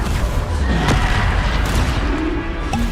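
A Bombarda explosion spell in the Hogwarts Legacy video game, heard as a loud, close boom with a sharp burst near the start that rumbles on under continuous game noise.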